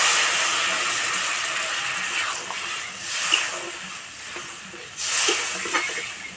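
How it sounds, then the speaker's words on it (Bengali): Water poured into hot fried spice masala for an egg and masoor dal dish, producing a loud, continuous hissing sizzle that surges twice as more water goes in. "মশলা কষানো হয়ে গেছে, এবার জল দিয়ে দেবো।"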